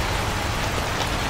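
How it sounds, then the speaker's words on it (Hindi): Heavy rain falls at night in a dense, unbroken roar of drops on surfaces, loud and close with no pauses or voices. "बारिश अभी भी नहीं रुकी, बारिश अभी भी नहीं।"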